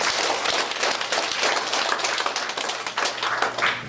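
An audience at a school entrance ceremony in Korea claps for the teachers, a lively, dense run of hand claps with individual slaps audible over a low steady hum.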